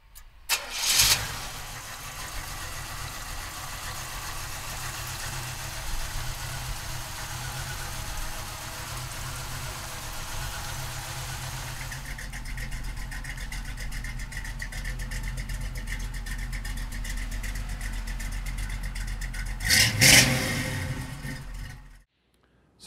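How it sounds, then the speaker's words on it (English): 1967 Chevrolet Camaro with RS front end cranking and firing up, then a sustained engine rumble with rising revs and a second burst of revving before it shuts off. "So come on up, we'll fire it up for you right now."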